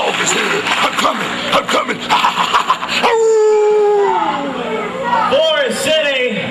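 A dog howls loudly and long with a sliding wail, after a stretch of yips and barks, with voices talking underneath.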